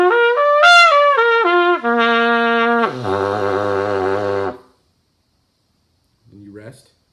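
A brass instrument plays a lip slur exercise, smooth connected notes moving up and down in steps, then dropping to a low sustained pedal tone before falling silent, with a brief soft note near the end.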